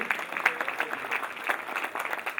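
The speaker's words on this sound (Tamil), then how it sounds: "அன்பான கரகோஷங்கள் இந்த பெருந்தகைகளுக்கு." A hall audience gives warm applause to dignitaries at a college function, a dense, even patter of clapping running the whole time without speech on top.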